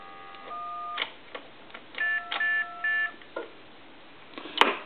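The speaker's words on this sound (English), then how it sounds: "We'll go ahead and dial some numbers here real quick." Touch-tone keypad dialing on a public payphone: a run of short dual-tone beeps, then three longer, evenly spaced tones, heard close and clear over a quiet background, ending with a sharp click.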